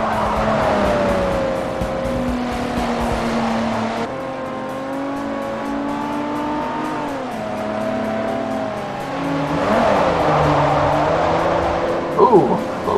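A DeLorean sports car corners at Infineon Raceway through an uphill, off-camber turn, engine droning steadily while the tires squeal in long, wavering tones that swell louder near the end.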